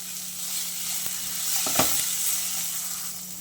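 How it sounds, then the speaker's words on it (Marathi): Green chilies and cashews fry in oil in a pan with a steady, bright sizzle, plus a few soft scrapes and stirring clicks near the middle; no one speaks. "आपण हे थोडंसं फ्राय करून घेऊया अगदी थोडे आपण यामध्ये काजू घालतो"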